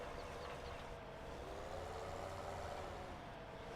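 A truck in Farming Simulator 17 drives with a steady, continuous engine drone and low rumble, its constant hum sitting mid-distance with no breaks.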